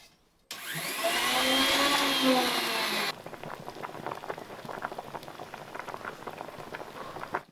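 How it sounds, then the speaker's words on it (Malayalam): A loud electric mixer grinder grinds grated coconut without water, whirring steadily for a few seconds and then cutting off, followed by faint clattering and rattling. "ഇത് വെള്ളം ഒട്ടും ചേർക്കാതെ വേണം ഇത് അരച്ചെടുക്കാനെ കൊണ്ട് നമുക്കിത് അരച്ചെടുക്കാമേ"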